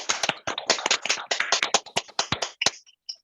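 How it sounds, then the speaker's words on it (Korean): Participants in a morning assembly deliver a quick, energetic round of hand claps, mostly in rhythmic bursts, that fades to a few scattered claps at the end, with no talking over it. "아자 힘차게 박수 한번 부탁드립니다."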